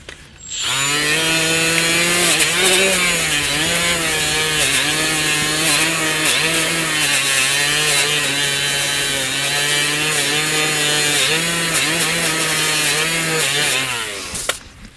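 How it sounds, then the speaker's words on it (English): Rust is stripped from a Chevrolet Sonic's front brake caliper bracket with a powered tool, giving a loud, steady buzzing whine that runs unbroken for about fourteen seconds, with slight dips in pitch as the tool bites the metal. "So let's get the rust off here where the clips go."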